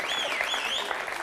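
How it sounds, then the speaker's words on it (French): Brief burst of audience clapping in a French TV makeover show studio, dense and steady with a high whistling tone riding over it. "venez, on peut l'applaudir"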